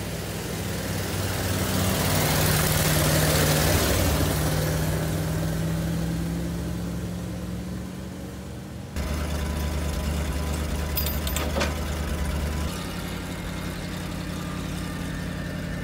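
A truck with a two-speed axle, shifted into fourth on flat ground, runs with a steady low engine drone that fades slightly and then holds at a lower, even idle-like rumble, close and without talk.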